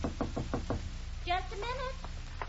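A run of five quick, sharp knocks on a door in an old radio crime drama, followed by a voice speaking over a quiet background.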